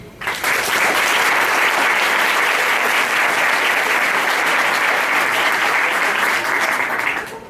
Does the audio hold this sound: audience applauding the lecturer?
yes